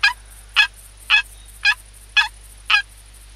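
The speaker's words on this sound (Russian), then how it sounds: "Вот вы слышали, кричала еще какая-то индейка или индюк." Six evenly spaced, short wild turkey hen yelps in the video game theHunter repeat in a steady rhythm, clear and fairly close, over a faint constant hum.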